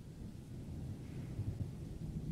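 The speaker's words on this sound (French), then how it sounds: "on entend le tonnerre au loin." Faint distant thunder rolls in a low, continuous rumble in the video game MudRunner, with a soft hiss of rain behind it.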